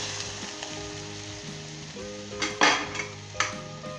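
Mutton curry being stirred in a frying pan after yakhni stock is added, a steady sizzle under bright scraping strokes that swell into a louder burst of stirring midway.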